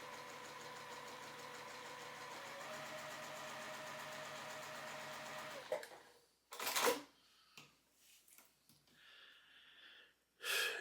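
A sewing machine runs a steady stitching hum while sewing a quarter-inch seam allowance, then stops, followed by scattered handling noises and rustles close by.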